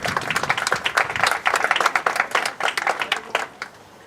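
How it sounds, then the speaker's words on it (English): Wedding guests at a golf club ceremony break into steady, fairly close applause that carries on for several seconds before fading out. "We'll give Amanda a round of applause."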